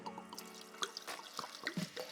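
Water splashes and trickles in quiet, irregular drips and pours as a coffee machine's reservoir is emptied, faint and close with short uneven bursts.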